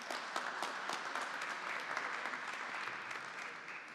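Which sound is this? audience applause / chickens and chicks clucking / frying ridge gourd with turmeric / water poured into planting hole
audience applause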